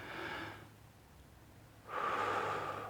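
A person takes a slow, deep breath in and then a long breath out as a relaxing cardiac coherence exercise; close, soft airy inhale and exhale separated by a quiet pause.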